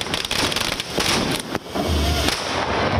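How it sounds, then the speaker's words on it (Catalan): A traca, a string of firecrackers, is lit to open the Festa Major in Canovelles, crackling in rapid irregular bursts with sharp louder bangs, close and loud over crowd noise. "ells han estat els encarregats d'encendre la traca que definitivament donava el tret de sortida"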